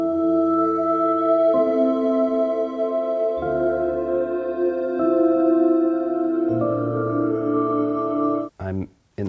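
Home-studio recording of a TV show score: sustained chord pads and tones that shift every few seconds, steady and full, before breaking into choppy fragments at the end.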